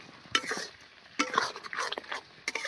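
A drumstick curry gets stirred in a pan, with a few scattered scraping strokes and soft sizzling between them, fairly quiet and close.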